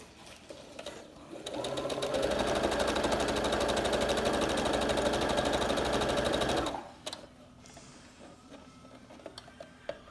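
A sewing machine stitches elastic into the seam of a fabric face mask, running in one steady, rapid burst of about five seconds, close and clear, then stopping with small handling clicks afterward.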